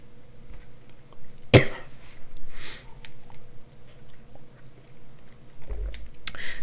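A single sharp cough sounds close to the microphone, standing alone over a faint background hum during a Danganronpa: Trigger Happy Havoc game playthrough.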